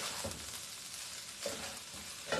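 Vegetables sizzle and hiss in a hot wok during Indo-Chinese cooking, a continuous frying crackle broken by a few distinct tossing scrapes and clanks, with no talk.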